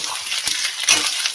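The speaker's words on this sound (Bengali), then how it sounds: "দিয়ে ভালো করে মশলাটা আমি ভেজে নেবো" A spice paste of ground okra with ginger and garlic fries in a pan, giving a short burst of soft hiss with a couple of scraping stirs.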